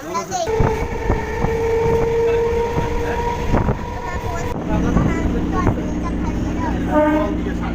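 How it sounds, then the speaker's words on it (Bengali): A local train pulls into a suburban station in Nadia, West Bengal, with a rumbling carriage noise, clanks and a squealing brake tone. Voices and station bustle mix in throughout. "ট্রেন এই মুহূর্তে এসে পৌঁছালো"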